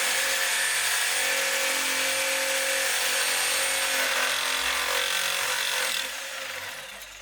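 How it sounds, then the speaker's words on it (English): Steady, loud rasping of a saw cutting through a BMW E36 car exhaust pipe, continuous strokes close by, easing off slightly near the end. "we're cutting this little exhaust thing so the thing can come out"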